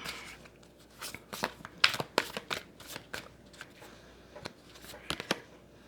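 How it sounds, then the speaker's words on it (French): Tarot cards shuffled by hand in a run of crisp riffling bursts and soft slaps, some pauses between them, close and fairly quiet with no talking. "Je vais mettre une carte sur la stratégie."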